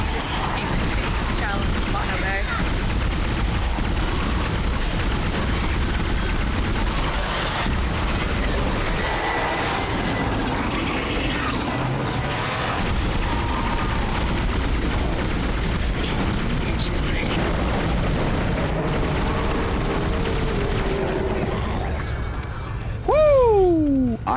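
Pulse rifle fire in Dead Space, a dense stretch of booming bursts and gunfire-like blasts running almost continuously for the full length, loud and close, with a voice faintly present underneath.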